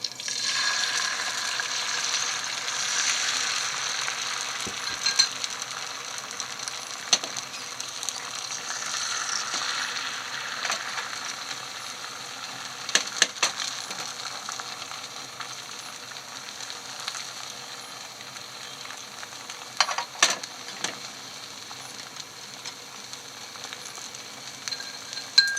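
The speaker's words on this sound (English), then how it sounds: "Once the pan is hot enough, pour in half of the beaten eggs." Beaten eggs sizzle and crackle in a hot pan over high heat, a continuous frying hiss with scattered sharper pops and clicks.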